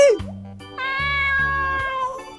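A cat meows twice, the first a short high cry and the second a longer, drawn-out meow, close and clear with nothing else around.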